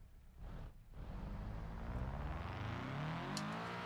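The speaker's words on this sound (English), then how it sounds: "Definitely supposed to be a Subaru Impreza, isn't it? Even sounds like one." A Subaru Impreza-style Sport RS car engine in the BeamNG driving game, revving up steadily as it accelerates, with a rising whine that climbs in pitch over a few seconds, loud and close.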